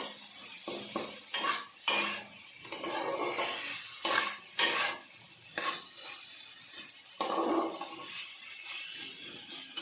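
Cumin and chili powder stirred into broccoli curry in a pan, repeated scraping and clinking of a spoon against metal over a low sizzle, close and busy.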